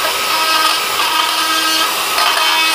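A rotary tool bit grinds and carves dead wild olive wood, giving a steady, close, bright whirring rasp that holds without pause throughout, with no voices.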